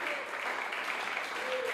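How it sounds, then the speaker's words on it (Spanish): A church congregation claps steadily, a dense wash of applause from many hands that stays even throughout, with a faint voice sustaining a note above it. "Dale fuertes aplausos a Jesucristo."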